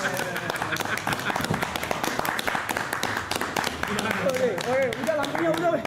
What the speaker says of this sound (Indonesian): Ini kita tepuk tangan ya.